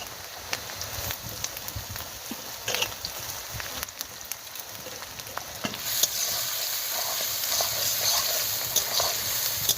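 Onions sizzling and frying in a pan for a village-style farm chicken curry, stirred now and then with scraping clicks; a continuous close hiss that grows louder and brighter partway through, with no voices.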